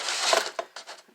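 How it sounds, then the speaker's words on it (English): An egg cracked open while baking cinnamon rolls: a quick close crack and crunch of shell, followed by a couple of softer taps and a faint trickle, all within about a second. "Crack the egg."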